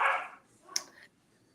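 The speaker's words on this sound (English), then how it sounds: "dog's barking." A dog gives a single short bark indoors, fairly close, followed by a brief higher yelp, then quiet.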